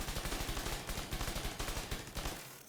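Rapid automatic gunfire in The Division 2 shooter game, a dense, continuous burst of loud repeated shots in a fast steady rhythm that cuts off near the end.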